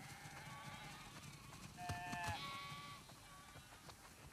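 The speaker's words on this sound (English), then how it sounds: "Wow, that's a lot of sheep." Several sheep bleat in short wavering calls in The Last of Us Part II, one louder pair of bleats standing out over a soft, steady background hum.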